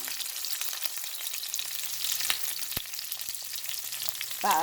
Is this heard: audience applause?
no